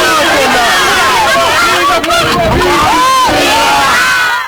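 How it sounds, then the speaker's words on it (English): A hostile crowd in the Crossmoor shack settlement shouting and yelling, a loud, continuous mass of raised voices close by, with individual cries rising above the din. "With a hostile crowd behind them, the City Council security leave the area."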